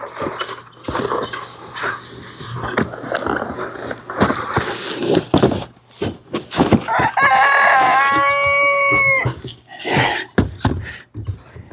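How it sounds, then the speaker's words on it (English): A rooster lets out one clear, loud crow partway through, amid a busy stretch of clucking and scratchy calls from chickens and guinea fowl, with scattered knocks and handling noises before and after. "not only did the rooster came, but he brought the guineas with it"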